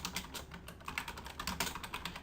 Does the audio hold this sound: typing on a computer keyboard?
yes